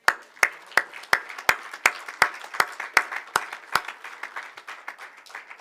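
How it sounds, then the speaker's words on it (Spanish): A church congregation claps in time during a sermon, a rhythmic run of sharp, evenly spaced claps, strong at the start and gradually blurring and fading as the beat loosens toward the end. "¿No cree usted que Cristo merece un fuerte aplauso?"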